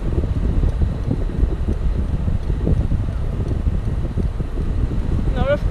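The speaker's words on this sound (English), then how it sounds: "It's a bit windy, that's why we are staying in one place." Steady wind buffeting the microphone in a low constant rumble throughout, with a faint voice briefly heard near the end among tourists.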